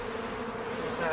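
Bees at a hive hum in a steady, close, continuous buzz during beekeeping in high summer while smoke is used to calm the colony.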